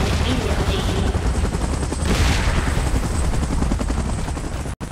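A helicopter in the video game PUBG Mobile, a loud continuous rotor roar with rapid chopping texture, mixed with bursts of gunfire and explosions, steady and close throughout.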